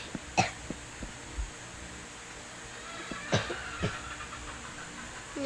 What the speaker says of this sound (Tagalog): May ubo po tayo eh.